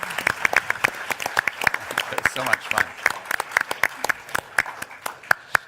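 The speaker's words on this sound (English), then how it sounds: "let's give all of us a wonderful round of applause" Debate audience clapping in a brisk, uneven patter of distinct claps, a modest crowd close by, with a brief spoken remark over it.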